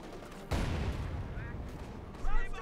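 A sudden burst of gunfire in the real-time strategy game Company of Heroes 2 breaks out as a loud crack followed by a rattling volley, under a commentator's voice.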